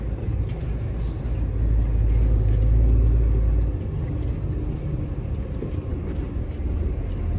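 A truck rolls along a rough road on a long-haul run from Ufa to Yakutsk, a steady deep engine rumble and road noise that swells briefly early on, with no talking.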